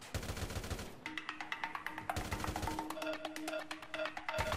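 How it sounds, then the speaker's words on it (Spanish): Rapid automatic gunfire in GTA San Andreas and Gmod: sustained bursts of sharp, evenly spaced shots, fairly loud and continuous, with no talking over them. "esos son disparos"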